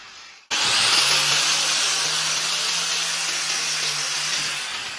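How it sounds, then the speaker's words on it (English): An angle grinder smooths the join between plaster and rock, starting abruptly after a brief quiet moment and then holding a loud, steady, harsh whine with a gritty rasp that fades slightly toward the end. "making the transition from the plasters to the rock nice and smooth with the angle grinder"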